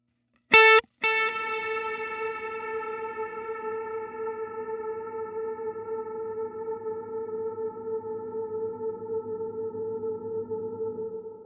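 Guitar run through a Line 6 Helix Heliosphere delay: a short plucked attack, a brief gap, then a sustained shimmering wash of tone that hangs steadily with an exceptionally long reverb decay, loud and alone.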